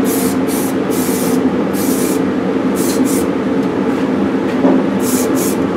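An aerosol can with a fan nozzle lays a light adhesion coat on a rifle stock, giving repeated short hissing bursts over a steady, loud background rumble.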